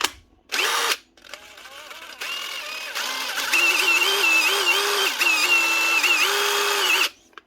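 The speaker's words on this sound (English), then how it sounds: "it wouldn't be a Dewalt repair video if we didn't repair a wee Dewalt impactor" A DeWalt impact driver whirs in several bursts, a short trigger pull followed by a long run whose motor pitch climbs and wavers, loud and close with no talking.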